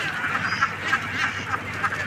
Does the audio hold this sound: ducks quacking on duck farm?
yes